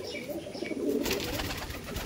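Pigeons at a seller's loft coo steadily in low, rolling calls, fairly close and continuous, with some rustling and a busy room tone behind.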